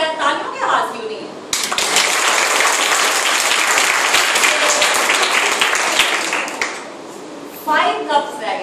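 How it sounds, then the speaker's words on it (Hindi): Loud applause from an audience at a traffic safety awareness camp, a dense burst of clapping lasting about five seconds, with speech before and after it. "जोरदार ताली"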